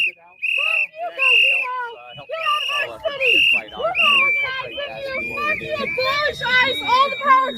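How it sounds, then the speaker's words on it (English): Protesters in a Los Angeles crowd blow shrill whistles in loud, repeated bursts, close by, mixed with shouting and overlapping voices. "hearing people blowing the whistles and telling you to get out"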